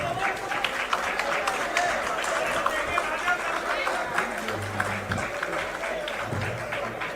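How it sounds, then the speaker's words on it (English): An audience at a political gathering applauds to welcome guests, a busy patter of clapping mixed with crowd chatter and nearby talk, with some low thumps underneath. "welcome all our guests with a big round of applause."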